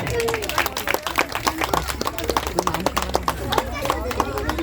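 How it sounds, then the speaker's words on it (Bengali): Applause and clapping from a crowd at a village prize-giving ceremony during a Dol festival and Manasa puja, steady dense claps throughout with voices talking over it. "তৃতীয় পুরস্কার। হাততালি।"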